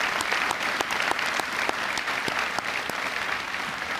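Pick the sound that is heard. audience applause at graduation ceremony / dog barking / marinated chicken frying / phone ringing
audience applause at graduation ceremony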